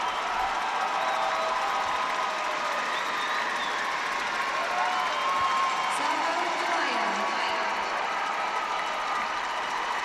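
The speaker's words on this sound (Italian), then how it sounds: "Lasciamo sentire il boato." An arena crowd roars and applauds after Sarah Meier's ladies' short program at the 2011 ISU figure skating championships in Bern, a dense sustained ovation with cheers filling the hall.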